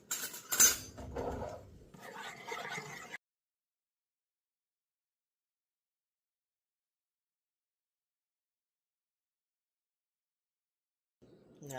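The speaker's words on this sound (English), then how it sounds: "take a spoon, stir it up, make sure it's all stirred up" A spoon stirring calcium lactate into water for popping boba, quick clinks against the container for about three seconds, then silence.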